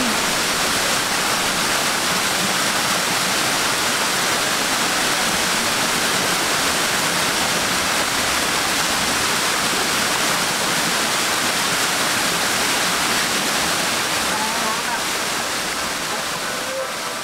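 A waterfall in the Mato Grosso do Sul backcountry pours in a steady, loud, broadband roar that fills the whole scene without a break, close by and constant.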